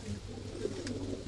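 Pigeons give soft, low coos at a moderate distance over a constant low hum, with no voices.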